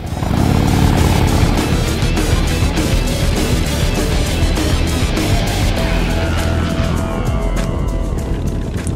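A chopper motorcycle engine revving hard, a loud continuous roar with rising and falling throttle that fills the whole stretch, with no talking over it.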